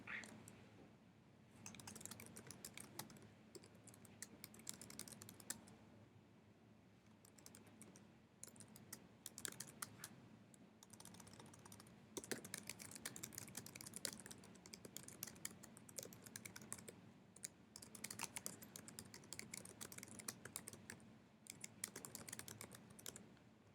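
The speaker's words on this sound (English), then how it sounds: "I could type my question in here" Steady typing on a computer keyboard, a question being entered into a Quizizz quiz; dense, continuous key clicks run throughout at moderate, even loudness with no talking.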